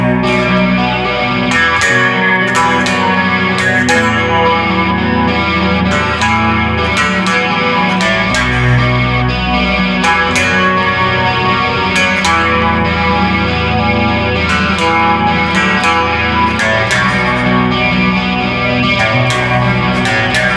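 An electric bass guitar played through distortion and chorus effects gives a dense, continuous, loud tone, with plucked notes punching through steadily and no talking.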